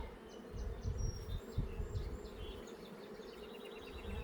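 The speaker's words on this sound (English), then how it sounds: "We've got a lot of bees, got a lot of resources." Honeybees buzz busily around a hive, a soft humming swarm with individual buzzes passing near, fairly quiet and without talk.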